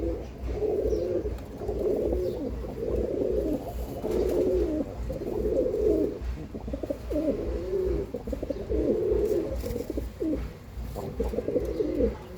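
Tenali breed pigeons from Andhra Pradesh, just released into a coop, coo repeatedly in a steady rhythmic series of low throaty calls, close and clear, with no talking.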